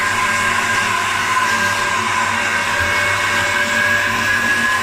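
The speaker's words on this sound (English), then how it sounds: "I'm using this, which is the current vacuum cleaner of the month" A steady, loud, high-pitched motor whine of a Dyson V11 Absolute cordless vacuum cleaner running continuously, with no talking.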